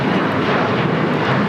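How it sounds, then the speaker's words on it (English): A Delta Boeing 757-200 bound for Mexico City takes off at LAX, a loud, steady broadband engine roar heard up close for a brief moment. "Do have a Delta 757-200 heading to Mexico City, flight 631, number 2 for takeoff."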